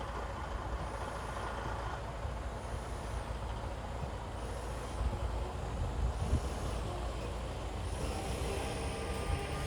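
A Schneider truck rumbles on a driver training course, a steady loud engine drone with road noise and a faint periodic hiss recurring every couple of seconds, with no voices.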